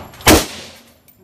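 A single loud, sharp crack from an AK-47 rifle, close by, followed by a brief outdoor decay and then near silence.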